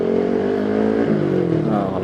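A Honda CB150R with a Spartan GP exhaust in street mode revs and holds a loud, deep, throaty drone close by, with someone speaking over it.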